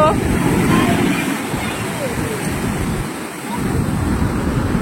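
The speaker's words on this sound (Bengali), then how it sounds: "সমুদ্রের আওয়াজটা শুনতে পাচ্ছ কত সুন্দর লাগে" Sea surf rolling in at RK Beach, Visakhapatnam, a steady broad wash of waves with wind buffeting the microphone, swelling and easing briefly before building again.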